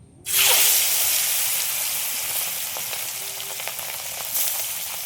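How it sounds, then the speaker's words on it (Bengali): Fish dropped into hot oil in a wok bursts into a loud, sudden sizzle that settles into a steady, crackling fry with occasional pops and stirring. "তেল গরম হয়ে গেছে, এবার মাছ সব ভেজে নেব।"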